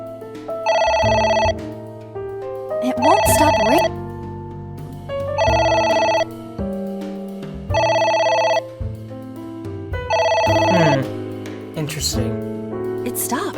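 A telephone in a video game ringing again and again, regular bright electronic ring bursts about every two seconds over in-game musical tones, with a person's voice breaking in between rings.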